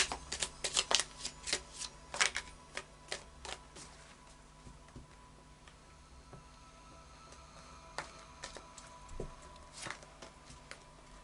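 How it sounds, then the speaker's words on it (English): Moonology oracle cards being shuffled in quick riffling bursts, loud at first then sparser, with soft papery slaps between; no talking. "So I'll just do a final shuffle now of the Moonology cards."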